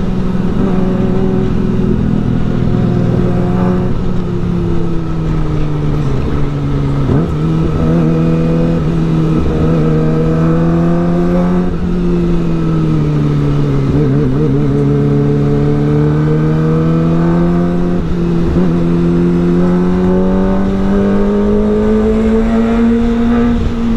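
A motorcycle revving its throttle on a street, its loud, steady engine drone rising and falling in pitch without a break.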